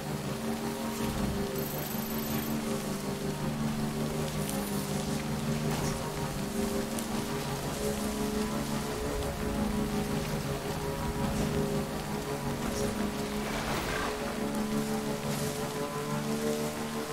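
Steady rain falling in the video game Death Stranding, a constant even patter under a low tonal hum of game music, without voices.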